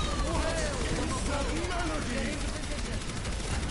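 Rapid gunfire from a team-based hero shooter, Overwatch, rattles on continuously through the whole stretch, dense and busy, with game sound effects and voices layered over it.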